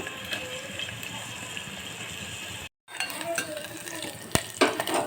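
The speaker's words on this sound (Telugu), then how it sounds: "అలానే ముందుగా కట్ చేసి పెట్టుకున్న ఆనియన్స్ అన్నీ వేసేసుకోవాలి ఆనియన్స్ పచ్చిమిర్చి ఇలా వేసి మగ్గించుకోవాలి" Chopped onions and green chillies sautéing in a pan for a Telugu-style curry leaves chicken curry, with soft sizzling, spoon stirring and scraping clinks, a short break, then sharper clatter.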